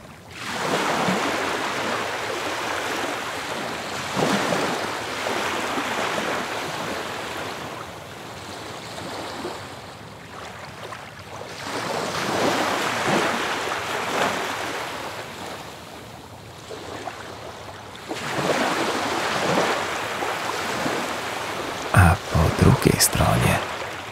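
Ocean waves wash onto a wide beach beside an azure sea, swelling and receding in slow, loud surges every several seconds, with a calm voice speaking over them.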